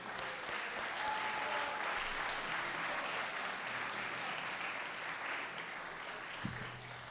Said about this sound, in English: let's give a great round of applause to our new employee, Tom Jordan